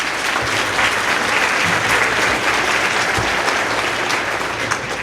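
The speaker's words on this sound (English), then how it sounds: "If I could just get one more round of applause for our chairwoman." A room full of people claps steadily and loudly for several seconds, a dense, even wash of applause with no voices standing out.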